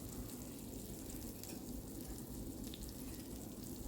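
Brinjal slices frying in oil on a tawa, a soft, steady sizzle that stays even and low throughout, with no talk.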